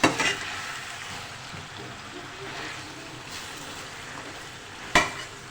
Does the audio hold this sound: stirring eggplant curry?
yes